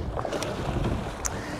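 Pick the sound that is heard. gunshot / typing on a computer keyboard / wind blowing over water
wind blowing over water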